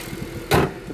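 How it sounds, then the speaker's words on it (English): Under the open bonnet of a Honda Civic, the idling engine hums low and steady, then the aircon pump kicks in with a brief, louder whoosh and clunk midway before the idle settles again. "You can hear the aircon pump kicking in."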